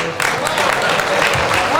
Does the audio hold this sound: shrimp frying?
no